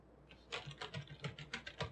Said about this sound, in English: That's me typing on the keyboard.